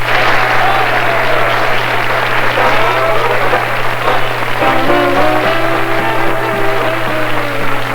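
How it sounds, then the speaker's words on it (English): Applause from a crowd at an air show after a guest, steady clapping across the whole stretch, mixed with a constant low hum and a faint tonal sound from the public-address setup. "Folks, a nice round of applause for Steve Hoffman."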